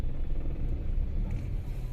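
Idling cars and motorbikes packed in a Bulandshahr traffic jam, a steady close engine rumble with a few faint brief clicks, no talking.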